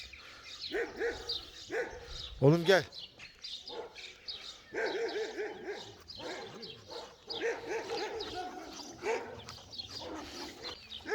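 A young Alabai puppy barks and yips repeatedly, with whimpering between barks, while a person speaks briefly nearby and birds chirp faintly in the background.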